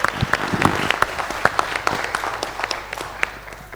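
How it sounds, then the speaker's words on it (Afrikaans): A church congregation claps warmly at a Pentecost service, a lively patter of many hands with distinct individual claps standing out, continuing steadily and fading slightly toward the end. "Geef hulle al drie 'n lekker hande klap"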